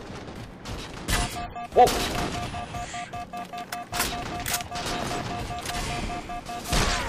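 Sniper rifle shots in a multiplayer shooter crack out a few times, sharp and separated, amid busy game noise, while a player lets out a startled exclamation.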